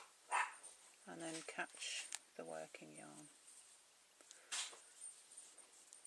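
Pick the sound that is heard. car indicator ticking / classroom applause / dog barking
dog barking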